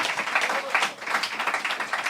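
Audience applause at a French Christmas special comedy show, a short burst of scattered clapping, moderately loud with no talk.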